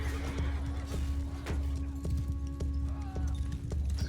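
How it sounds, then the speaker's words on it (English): A horse in the medieval battle game Mount & Blade II: Bannerlord whinnies clearly over rhythmic clip-clop hoofbeats and a low battlefield rumble, fairly faint overall. "Here's a decent horse."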